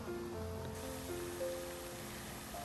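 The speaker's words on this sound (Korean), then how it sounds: "잔잔히 퍼져나가는 물소리는 도심 속에서 잠시나마 자연의 품에 안긴 듯한 평온을 느끼게 합니다." Fountain water splashing in Seoul Forest park, a steady soft wash of water heard alone at moderate distance.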